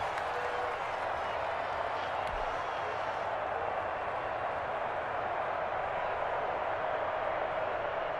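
Stadium crowd in the Madden NFL 21 video game, Cowboys versus Packers, roars steadily ahead of a big third down, a continuous dense wash of cheering that holds loud and even throughout.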